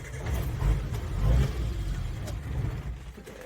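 Suzuki engine on a cold start: a steady, close, low rumbling idle that swells briefly as the throttle is blipped, running alone without talk.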